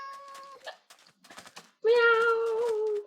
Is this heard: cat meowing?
yes